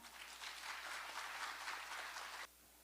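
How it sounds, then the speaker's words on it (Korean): Audience applause welcoming a guest lecturer, the Anti-Corruption and Civil Rights Commission's welfare-labor division chief, at a special ethics lecture at the Korea Power Exchange: steady, moderately faint clapping from a room that stops abruptly near the end. "박형준 과장님을 뜨거운 박수로 맞이해 주시기 바랍니다"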